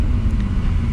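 A turbocharged Nissan G35 idles steadily up close with a loud, deep, even rumble and no voices over it.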